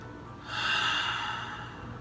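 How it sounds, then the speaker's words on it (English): A single long, deep breath drawn in and let out slowly, close and fairly soft, rising in the middle and fading at the end. "Everyone take a big deep breath."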